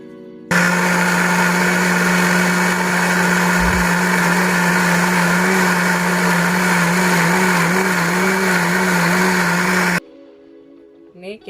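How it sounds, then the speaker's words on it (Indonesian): An electric blender grinds spices for an Acehnese stir-fried anchovy dish, a loud continuous motor whine with a steady buzzing drone that runs for about nine and a half seconds, then cuts off abruptly. "kita blender dulu"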